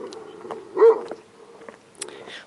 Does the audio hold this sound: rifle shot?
no